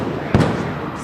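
A single sharp stun grenade blast goes off at a student protest, its short boom cutting through steady crowd noise and a reporter's voice speaking in the background.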